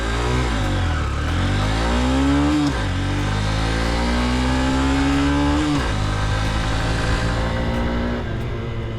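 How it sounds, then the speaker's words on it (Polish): A Honda CB125F small 125cc motorcycle accelerating, its single-cylinder engine rising in pitch through two or three gear changes with brief dips between, loud and close with no talk. "Do tych 50-60, no 70 km na godzinę motocykl rozpędza się całkiem żwawo"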